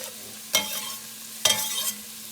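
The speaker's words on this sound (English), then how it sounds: "Now we're going to add this onion to this oil mixture." Onions hitting hot oil for green chili, two sharp bursts of sizzling about a second apart, each fading into a soft crackle over a quiet background hum, with no talking.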